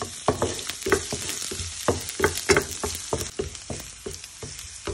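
Garlic sizzles steadily in a hot pan, broken by repeated sharp scrapes and clatters of a utensil stirring it, close and clear with no talking.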